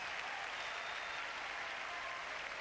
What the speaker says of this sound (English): Applauded by Henman.